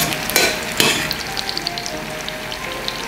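Bacon frying and browning in a pan for boeuf bourguignon, crackling in a steady sizzle with scattered pops, close and fairly loud, no voices.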